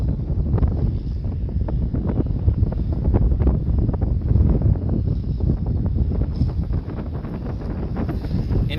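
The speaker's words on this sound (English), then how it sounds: "it is a little windy up here today." Gusty wind buffets the microphone outdoors at Fort Humboldt State Historic Park, a loud low rumble with irregular thumping gusts throughout.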